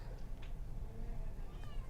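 A heavy, cobby cat gives a few faint, short meows close by over a low background hum.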